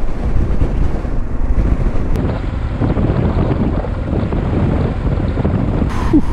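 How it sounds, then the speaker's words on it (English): Strong wind gusting at roughly 25 to 30 mph in the Utah desert, heard as loud, continuous rumbling buffeting across the microphone with no pauses, close and steady throughout. "It's so windy."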